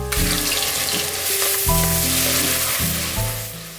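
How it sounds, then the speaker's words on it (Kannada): A ground paste of onion, garlic, ginger, coriander leaves and green chilli fries in hot oil for vegetable pulao, a loud, close, continuous sizzle over tonal background music. "ಎಣ್ಣೆ ಸ್ವಲ್ಪ ಕಾದ್ಮೇಲೆ ನಾನೇನು ರುಬ್ಬಿದ್ದೆ ಮಸಾಲೆನ ಅದನ್ನೇ ಡೈರೆಕ್ಟಾಗಿ ಹಾಕ್ತೀನಿ."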